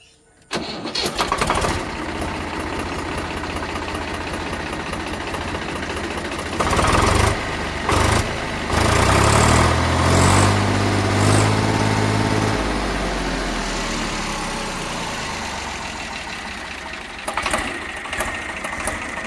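A used one-owner Swaraj 834 farm tractor with its original factory engine cranks and fires, then settles into a steady, loud diesel idle that runs on without any talking.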